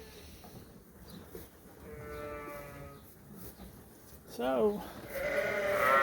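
Freshly shorn Dorset rams bleating, several wavering calls, one near and loud, with a brief spoken word and farmyard background noise around them.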